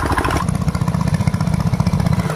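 Two motor pumps drain a fish pond, a small engine chugging in a fast, even pulse at close range, with no one speaking.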